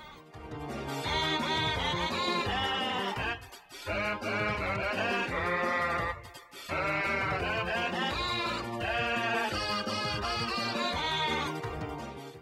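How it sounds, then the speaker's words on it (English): Sheep bleats arranged into a melodic rendition of Land of Hope and Glory, recorded as a football World Cup novelty: a loud, continuous chorus of pitched, wavering bleats with brief pauses between phrases. "the Barmy Sheep have recorded a rendition of Land of Hope and Glory to inspire the English players and their supporters"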